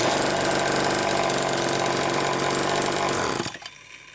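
A repaired EZ chainsaw engine runs at a loud, raspy, buzzing high idle for several seconds, then cuts off abruptly, leaving quiet background.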